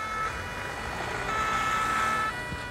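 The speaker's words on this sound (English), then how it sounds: "you just saw an ambulance just leaving and going on an intervention" An ambulance leaving on an emergency call sounds a loud, sustained siren close by, with a steady tone throughout and a faint vehicle rumble beneath.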